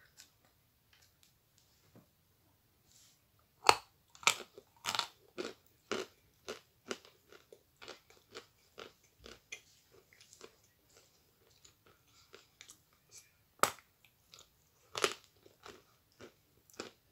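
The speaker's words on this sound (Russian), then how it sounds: "Этот кусочек плохо хрустит, потому что плохо просок." Pieces of chalk are bitten and chewed up close, making a string of sharp, dry crunches and crackles at an irregular pace, some loud and others softer, with quiet pauses between bites.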